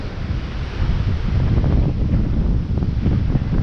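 Ocean surf and wind on Boracay's White Beach make a loud continuous roar with heavy wind buffeting on the microphone, the waves washing in as a broad rushing wash.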